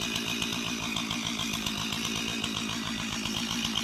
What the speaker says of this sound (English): Cleared three trees with one chainsaw